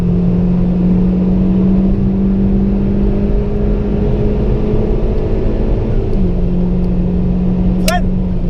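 A car engine held at full throttle down a straight on the Nürburgring: a loud, steady droning tone that shifts slightly lower near the end, with a brief high chirp just before it finishes.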